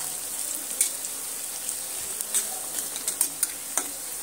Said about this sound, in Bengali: কাঁচা জিরেটা কয়েক সেকেন্ডের জন্য ভেজে নিলাম